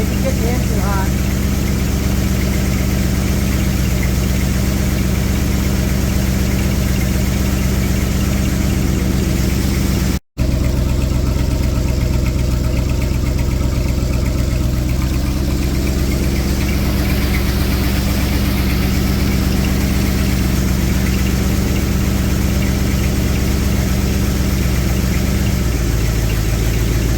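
A freshly rebuilt Ford 428 V8 engine idles steadily and loudly nearby during cam break-in, with a deep, lumpy rumble, its note dropping slightly partway through.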